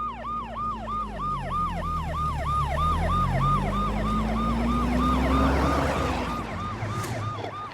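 Several police vehicle sirens wail together as a convoy pulls out of headquarters, loud and steady with rising and falling tones over the rumble of engines and traffic.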